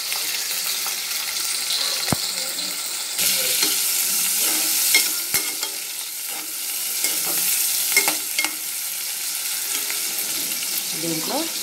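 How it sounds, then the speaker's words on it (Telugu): Wheat rava khichdi ingredients frying in a pan make a continuous sizzle, punctuated by sharp clicks and scrapes of a spoon stirring against the metal, close and fairly loud. "ఇప్పుడు కొంచెం ఫ్రై చేసుకోవాలి."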